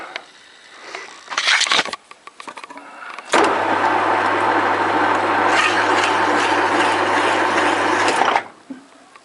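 A lathe cutting a thread on polyethylene pipe runs for about five seconds as a steady, loud mechanical whir over a low motor hum, after a few seconds of clattering handling sounds.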